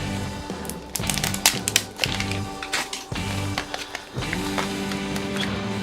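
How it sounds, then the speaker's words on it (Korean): A pull-back toy car from a Kinder Joy egg is wound back, then released to whir across the floor. The whirring comes in repeated short runs with a rattling, clicking texture, close and fairly loud. "뒤로 당기면 자동으로 앞으로 가는 그런 제품인 것 같아요"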